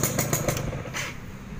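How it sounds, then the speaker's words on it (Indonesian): A 2004 Yamaha F1ZR two-stroke motorcycle in good mechanical condition runs steadily nearby, its engine note rising in a few quick throttle blips before settling back to a smooth idle. "untuk di mesin masih halus yang pasti"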